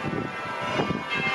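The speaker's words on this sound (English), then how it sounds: "Bells going." Church bells ring outside a hotel balcony in Perth, a sustained resonant peal with overlapping strikes, moderately loud and continuous for the short stretch.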